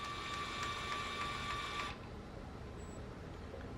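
Printer priming its ink, a steady mechanical whirring buzz with faint rhythmic clicks that stops abruptly partway through, leaving a low quiet room hum.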